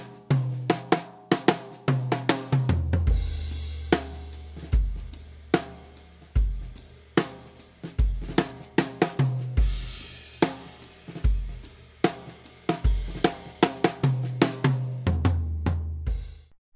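Pearl President Deluxe drum kit fitted with stock Remo heads, played straight out of the box: punchy kick, snare and tom hits with cymbal wash in a steady groove, close and loud with no talking.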